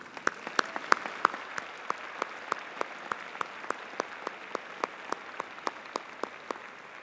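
Graduation audience at a spring university convocation claps in a steady, evenly spaced rhythm, each clap sharp and distinct, continuing for several seconds with no voices over it.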